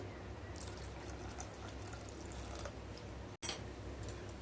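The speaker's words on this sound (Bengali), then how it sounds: "এবার দিয়ে দেব হাফ কাপ দুধ।" Half a cup of milk is poured into a semolina breakfast batter, making a faint, steady trickle that runs nearly unbroken with one brief gap near the end.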